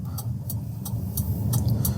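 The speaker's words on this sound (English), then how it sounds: "I have given the right side indicator" A car's right turn indicator ticks in a steady rhythm of about six sharp, evenly spaced clicks inside the cabin of a manual car in city traffic, over a low engine hum.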